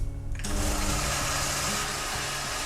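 Electric mixer grinder whirring steadily as it blends crispy fried onions with yogurt into a paste, a continuous loud motor drone that starts abruptly and runs alone without talk.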